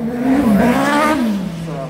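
A Sigma race car with a four-cylinder, aluminium-block mid-mounted engine revs loudly up close, a strong sustained engine tone that rises, dips and falls away over about two seconds.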